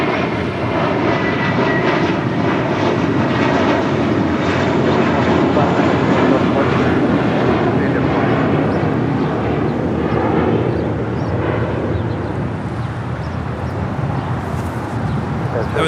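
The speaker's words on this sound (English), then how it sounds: "That was JetBlue Airways Flight 2885 heading to Miami, Florida at A321." JetBlue Airbus A321 jet on the runway at Los Angeles International Airport, a loud, steady, broadband engine roar that stays powerful throughout and eases slightly near the end.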